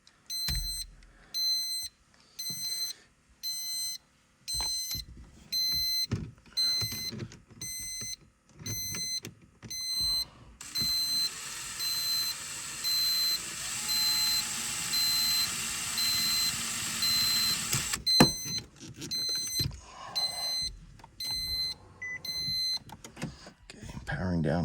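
Steady electronic beeping from a Nissan 370Z's newly installed triple gauge pod while powered up, repeating in regular pulses with a continuous high tone in the middle stretch, close and insistent, with occasional talk and tool noise around it.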